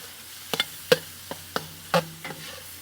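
Fried rice with chicken is stirred in a wok on a Big Green Egg, a handful of sharp metallic scrapes and taps spaced irregularly over a faint quiet background.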